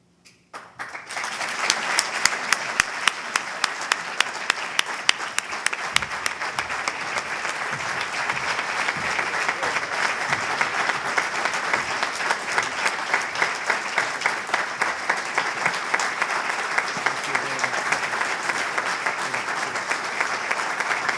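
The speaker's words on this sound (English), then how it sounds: "we also should give a big round of applause" An audience at an awards ceremony honoring a former governor breaks into sustained applause, dense and steady clapping from many people, loud and continuous for about twenty seconds.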